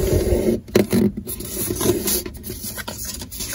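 Origami paper being folded for a domino gift box, with close crisp rustling, scraping and creasing sounds in uneven bursts and no talking.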